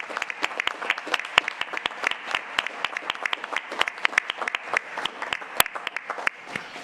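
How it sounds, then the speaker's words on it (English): A small group in a city council meeting room claps for several seconds, fairly close, a scattered pattering of hands at an even pace that tapers slightly toward the end. "Do we want to give them a round of applause?"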